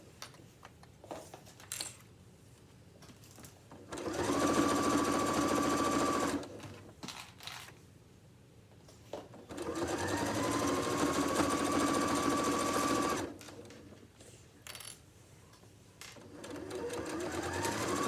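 Domestic sewing machine stitching around the outside edge of a fabric apron, running in two sustained loud bursts of steady whirring with quieter pauses between them.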